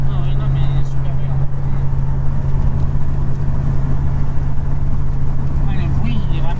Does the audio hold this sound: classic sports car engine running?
yes